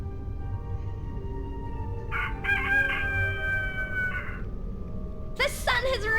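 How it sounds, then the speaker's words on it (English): A rooster crows in A Vampyre Story, the adventure video game, with a long crow followed by a shorter, brighter burst near the end, both sounding over a steady background bed. "The sun has risen and the rooster crows."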